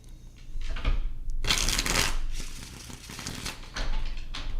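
Tarot cards shuffled by hand in a few quick riffling bursts, close and fairly soft, with brief pauses between.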